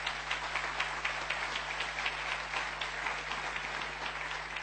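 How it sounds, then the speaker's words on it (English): Steady applause from a large audience at a climate conference session, a dense, even wash of clapping that holds at moderate level throughout with no voices over it. "Those of you who applauded"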